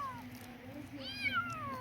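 A cat in a Turkish village walnut orchard gives a few rising and falling meows, close and fairly clear over quiet outdoor background, with no talk.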